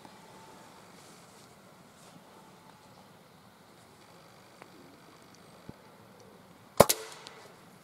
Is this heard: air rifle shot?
yes